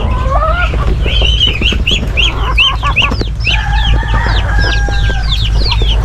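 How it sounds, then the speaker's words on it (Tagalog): Several Black Australorp chickens cluck and squawk in overlapping bursts nearby, with a rooster-like call mixed in over a constant low background rumble. "Yan ang ating biniling black astrolop na manok."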